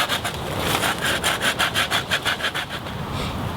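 Saw cutting through a clematis stem being trimmed for a friction fire hand drill, about a dozen quick rhythmic rasping strokes, close and steady, then trailing off into a softer scrape with no talking.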